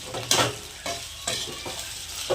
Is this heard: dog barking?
no